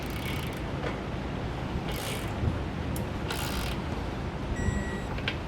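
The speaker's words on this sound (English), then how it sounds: "we're going to tighten and then torque our hardware to the specifications and the instructions" Hand tools tighten and torque bolts on an EcoHitch hidden trailer hitch receiver fitted to a 2020 Tesla Model Y, giving steady ratcheting clicks and faint mechanical creaks at close range with no talking.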